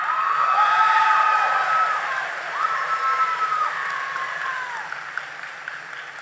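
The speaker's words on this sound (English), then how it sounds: "hopefully y'all applaud this speech" A graduation audience at a 2022 high school ceremony applauds after a speech, a dense wash of clapping with some cheering voices that swells, dips around the middle, then carries on steadily to the end.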